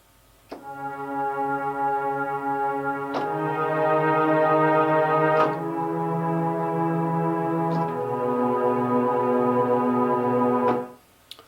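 A string section plays sustained chords spread over two octaves above a held low note, with several smooth bow changes across about ten seconds before the sound cuts off cleanly.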